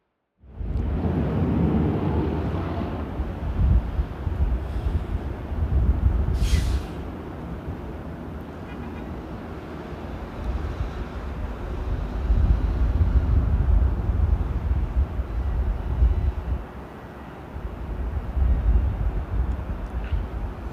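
Several Airbus A380 airliners backtracking along the runway at LAX for takeoff, a deep, steady jet-engine roar that swells and eases over time, with faint distant radio chatter.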